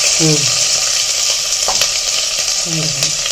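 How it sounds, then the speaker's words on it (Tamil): Onion and tomato sautéing in a pan give a loud, steady sizzle and hiss throughout, with a couple of short squeaky chirps rising above it. "வெங்காயத்தை வதக்கி வச்சுட்டு அடுத்தது ஒரு தக்காளி கட் பண்ணி வச்சுருக்கிறத போட்டாச்சு போட்டு அதை ஒரு வதக்கு வதக்கு"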